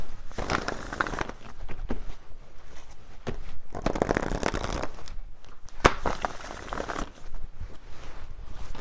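Tarot cards being shuffled by hand: bursts of riffling, flapping card noise close up, repeated in several rounds with brief pauses between.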